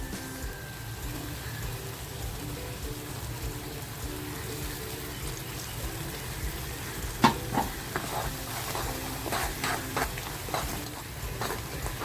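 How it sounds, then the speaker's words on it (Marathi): Spiced masala with kokum for a tangy Konkani mackerel curry fries and sizzles steadily in a pan, a continuous crackling bed with a few louder stirring clinks near the end; no talking. "मसाला बघा किती छान फ्राय झालाय"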